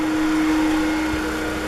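A kitchen range hood extractor fan runs in reverse with a steady, close whirring drone and a faint hum, constant throughout with no talk.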